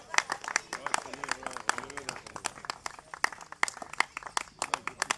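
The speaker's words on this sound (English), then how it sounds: "a big round of applause, guys, to Vishal sir" Scattered, fairly faint clapping from a small crowd at a cricket trophy ceremony, individual claps audible in an uneven rhythm with voices talking underneath.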